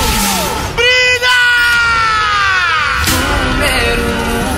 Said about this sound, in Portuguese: E quem ama, bebe, dá um grito!